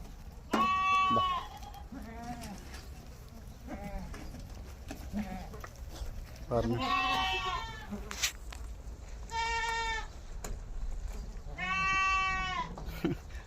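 Goats on a Saudi village farm bleat loudly in several separate, quavering calls spread across the stretch, close and clear over quiet background noise, with little talk between them.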